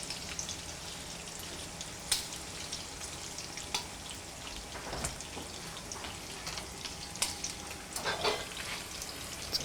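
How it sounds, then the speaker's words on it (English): Pancetta frying in a pan, a steady close sizzle broken by sharp spattering pops and crackles, with one louder burst near the end. "the pancetta is exploding"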